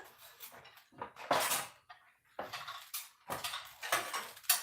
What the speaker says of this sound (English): I want to use a pan that has a lid